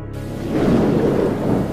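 Deep thunder rumbles with steady falling rain, loud and close, swelling after a brief quiet start and continuing without any voices.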